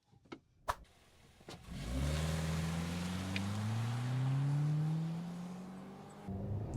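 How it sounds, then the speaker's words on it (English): The gas engine of a 2024 Hyundai Kona accelerates off the line in sport mode, revving up with a rising, strained drone that climbs steadily for several seconds, after a few short clicks and thumps. "looks like this off the line when in sport mode"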